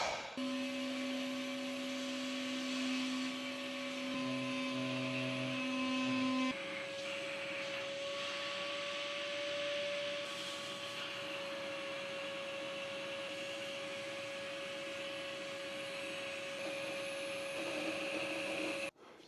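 A Hoover vacuum cleaner runs steadily for a long stretch with a droning motor whine and hum, shifting pitch partway through as the load changes.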